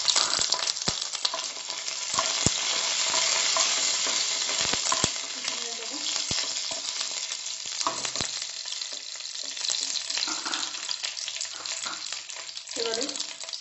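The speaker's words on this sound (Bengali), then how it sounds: "এবারে কারি পাতাগুলো দিয়ে দিলাম।" Curry leaves crackle and spit in hot oil already popping with cumin and mustard seeds, a loud, steady close-up sizzle broken by sharp splattering pops.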